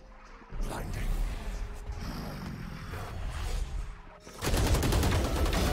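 Valorant video game gunfire: scattered shots under a busy game mix, then a loud, rapid volley of fire near the end.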